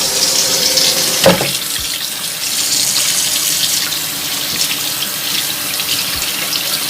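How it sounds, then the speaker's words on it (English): A whole raw chicken is washed with a lemon or lime under a cold running tap, giving a loud steady hiss of water into the sink with a brief splash and handling knocks. "wash the chicken with a lemon or a lime underneath cold water"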